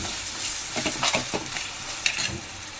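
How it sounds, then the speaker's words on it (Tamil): Ginger garlic paste sautéing in a pan for a Tamil crab semi gravy, giving a steady sizzle with repeated scraping stirs close by and no voices. "இஞ்சி பூண்டு பேஸ்ட் ஆட் பண்ணிவிட்டு நல்லா வதக்குவோம்"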